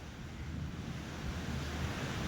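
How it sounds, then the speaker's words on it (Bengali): Storm wind and heavy rain roar in a dense, continuous broadband rush that swells slightly toward the end, close and fairly loud, with no voices. "বাপরে, কি ঝড় বৃষ্টি হচ্ছে।"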